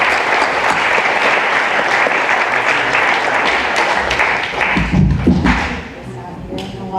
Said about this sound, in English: So let's give Leah a big round of applause.